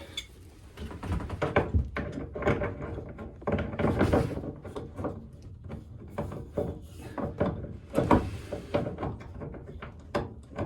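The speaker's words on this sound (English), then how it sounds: "give it a couple good turns with a wrench" Metal wrench clicks and thunks tightening a faucet fitting during a pop-up camper water pump install, a run of close, uneven knocks and scrapes with brief pauses, no talking.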